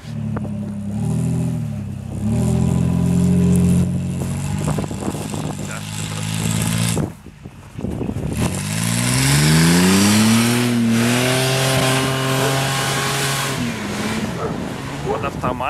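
A Chevrolet Niva with locking differentials revs hard driving off-road through deep snow, its engine droning, surging and climbing in pitch as the tires churn, loud and close, while people talk over it.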